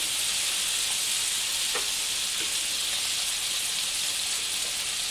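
Shrimp sizzle and fry in a hot pan while being stirred quickly, a steady close hiss with faint scraping touches and no talking.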